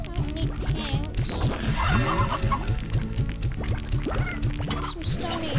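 A group of chickens clucks loudly and close by, with overlapping, rhythmic clucks and short squawks filling the whole stretch, while a person speaks faintly in the background.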